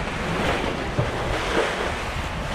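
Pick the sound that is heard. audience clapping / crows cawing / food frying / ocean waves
ocean waves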